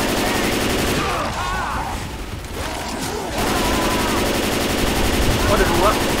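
Rapid automatic gunfire from a Left 4 Dead 2 match, aimed at a Tank, rattles continuously at a loud, near level, with a brief dip in the middle and spoken voices over it.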